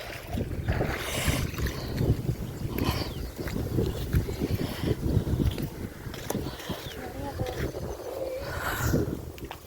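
Steady wind rushes and buffets the microphone, a low rumbling roar that never lets up across the whole stretch.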